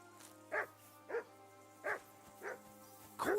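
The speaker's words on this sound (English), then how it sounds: "Jesus, Henry, that barking's driving me nuts." A dog in the game Kingdom Come: Deliverance II barks five times at a steady, unhurried pace, each bark distinct and mid-loud above a constant low background drone.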